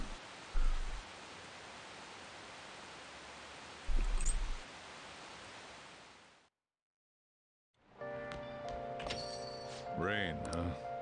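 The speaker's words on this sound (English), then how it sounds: "Rain, huh?" Steady rain falls in Persona 5 Royal, a soft broadband hiss that runs continuously for about six seconds, briefly drops out, then returns beneath game music and voices.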